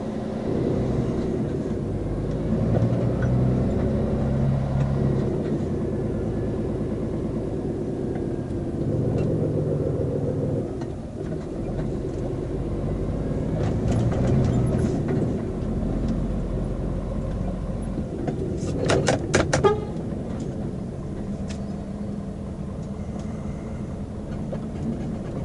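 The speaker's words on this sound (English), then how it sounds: "Traffic" Road traffic passing along the promenade at the Isle of Man TT grandstand, a low rumble of vehicles rising and fading over a long stretch, with a brief clattering burst near the end and no talk.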